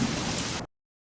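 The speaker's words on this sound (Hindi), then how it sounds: "बूंद बूंद बारिश शुरू हो चुकी थी।" Cartoon rain sound effect for a forest monsoon shower, a dense steady hiss of falling drops heard briefly and loudly before cutting off abruptly into silence.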